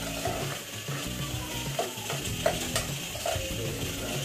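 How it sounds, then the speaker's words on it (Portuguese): Rice being stirred in a pan that still holds a little excess water, giving a steady scraping and soft sizzle with a few louder clicks of the spoon against the pan. It is close and continuous. "Eu tô mexendo aqui porque pra não pregar na panela"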